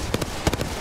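Gunfire in the video game Apex Legends during a pubs match: a few quick, sharp bursts of shots cracking in short clusters, fairly close and loud against a faint background.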